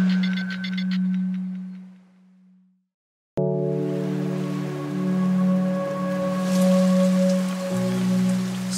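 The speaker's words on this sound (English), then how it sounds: "it's still thundering and it's still raining" Torrential rain pours over an island during a thunderstorm, a steady close wash of hiss that cuts out briefly and returns heavier, with a low sustained drone running beneath it.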